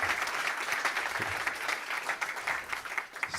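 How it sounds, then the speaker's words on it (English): Audience at the Matrix Conference 2025 bursts into steady, dense applause after a session, a continuous wash of many hands clapping that holds at an even level throughout. "let's give it another applause for Florian and the Element Call team"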